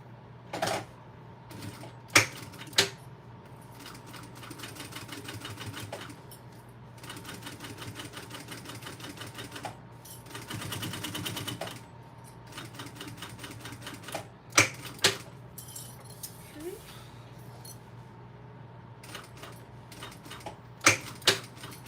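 A sewing machine runs in stretches, top stitching a circle bag, with a fast, even mechanical clatter. Pauses fall between runs, along with sharper clicks and handling knocks nearby.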